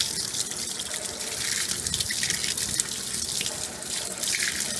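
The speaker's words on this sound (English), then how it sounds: "it's automatically going to start filling with water because it's automatically detected that it's a heavy load." A Samsung Aqua Jet 5.0 cu. ft. washing machine fills with water, a steady hissing rush of inflowing water with light splashing, continuous and close.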